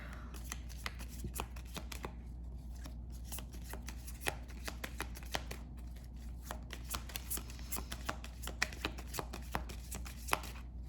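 A tarot deck is handled before a card is drawn, with a rapid run of crisp card flicks and riffles, close and fairly quiet, with no voice.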